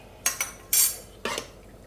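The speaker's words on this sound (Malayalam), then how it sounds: "കറി ഒരു പാത്രത്തിലേക്ക് ഒഴിച്ചെടുക്കാം" Breadfruit curry is transferred from the cooking pot into a bowl: three short bursts of metal spoon scraping and clinking against the vessel, close and fairly loud, with quiet gaps between and no voices.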